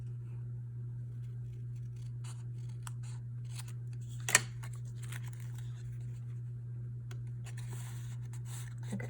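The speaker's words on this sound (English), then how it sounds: "we need to cut it just a little bit shorter" Scissors cut through scrapbook paper in soft, quiet snips over a constant low hum, with one sharp, louder click partway through.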